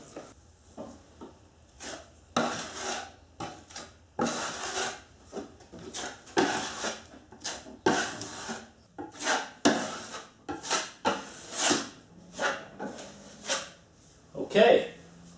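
Universal patch and skim-coat compound being spread over low spots on plywood inside a vintage Shasta camper trailer, heard as repeated rasping scrapes of a putty knife in short strokes, up close.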